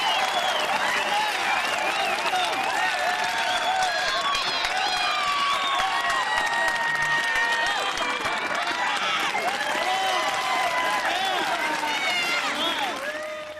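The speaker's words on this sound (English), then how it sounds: "I'd like you to really recognize and applaud the" Applause from an online community assembly audience for idea generators, a steady dense wash of clapping and cheering mixed with overlapping voices throughout.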